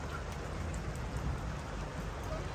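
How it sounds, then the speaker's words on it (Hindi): Heavy rain falling in Jaipur, a dense, steady hiss of drops pattering on surfaces, even and continuous at moderate level. "और अभी भी बहुत तेज़ बारिश हो रही है।"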